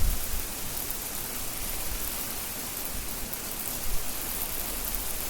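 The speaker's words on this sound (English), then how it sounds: "a hailstorm, like sleet fell from the sky on the roof and it was loud" Steady, dense patter of hail and sleet drumming on a roof during a hailstorm, a continuous hiss with no pauses, fairly loud and close throughout.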